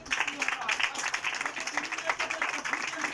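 A church congregation claps together in quick, steady rhythm, fairly faint and mixed with crowd voices.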